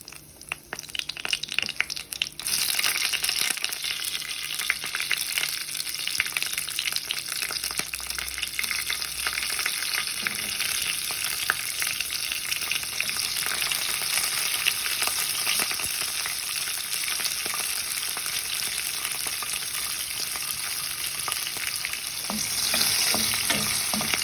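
Chilies frying in a pan alongside potatoes and cauliflower, a loud, continuous hiss and crackle of hot oil with scraping stirs running throughout.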